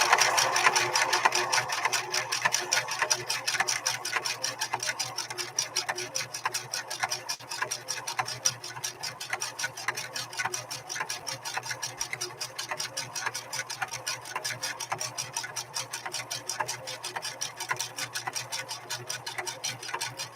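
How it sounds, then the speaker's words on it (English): A Singer 6215C sewing machine runs a number 5 flexi stitch through two layers of heavy-grade denim, giving a steady, fast mechanical chatter that stays loud and continuous with no talk over it. "A flexi stitch, number 5, on 2 layers of heavy grade denim."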